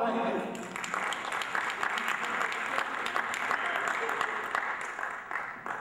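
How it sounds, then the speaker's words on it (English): An audience's round of applause for a piano and keyboard player, full steady clapping from a room of people with some voices and cheers mixed in, lasting throughout. "Give a nice round of applause for our man with the hat, Mr."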